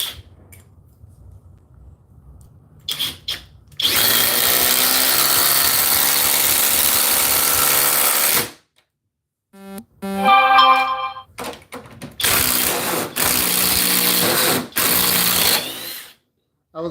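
A Makita XGT cordless drill spins up loudly in several bursts, one long whine of about five seconds and then shorter runs broken by pauses and small clunks, close by and alone.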